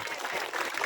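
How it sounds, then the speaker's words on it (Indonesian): Brief burst of audience clapping at an Islamic religious gathering, a short dense patch of applause from the crowd. "Ya tepuk tangan no."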